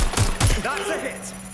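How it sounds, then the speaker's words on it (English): A short burst of several sharp, close gunshots rings out in the video game Watch Dogs: Legion, then a voice speaks briefly as the shots fade. "Shots fired."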